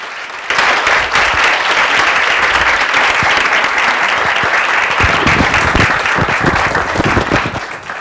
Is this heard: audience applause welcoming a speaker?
yes